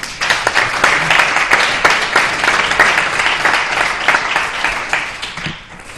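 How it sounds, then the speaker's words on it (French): Sustained audience applause fills a conference hall at an HEC Israel business event, a dense steady wash of many hands clapping close by that thins out near the end. "Vous pouvez l'applaudir"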